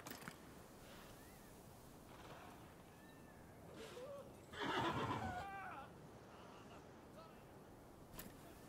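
A horse whinnies loudly at mid-distance in the video game Rise of the Ronin, a brief shrill neigh standing out over a low background hum, with faint other sounds before and after.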